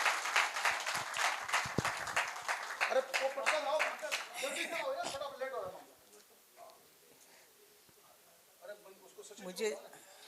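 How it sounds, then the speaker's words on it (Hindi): An audience claps loudly at an indoor lecture gathering, with dense applause for about five seconds that quickly fades while a speaker's voice continues over it. "एक बार तालियां उठे पूरा सदन मंजू दीदी के"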